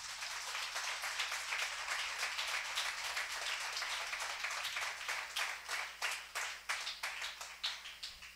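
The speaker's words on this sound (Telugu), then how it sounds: "ఒకసారి గట్టిగా చప్పట్లు కొడదాం." An audience at a gospel gathering claps in a sustained burst that becomes more sparse and rhythmic toward the end, with individual sharp claps standing out, a faint steady hum underneath.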